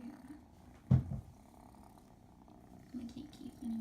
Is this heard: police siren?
no